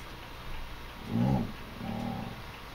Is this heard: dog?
yes